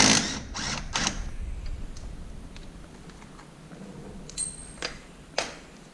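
A ratchet wrench loosens 15 mm tie rod bolts on a SuperATV heavy-duty tie rod, with a burst of quick clicks at first, then sparse isolated metallic ticks and clanks over quiet background, close up and without speech.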